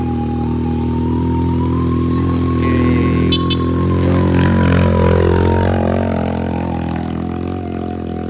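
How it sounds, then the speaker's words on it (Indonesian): A trail motorcycle engine drones steadily with a rising, labored pitch as the bike climbs uphill, close by and loud throughout. "Ini ada motor trial nih kayaknya, nanjak di sini."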